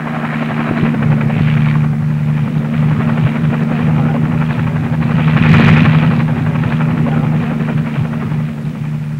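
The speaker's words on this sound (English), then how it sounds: "Helicopters took the weapon and its crew on various airborne missions." Military helicopter in flight carrying an Army Little John rocket crew, its loud steady rotor chop and turbine drone continuous throughout, swelling slightly midway.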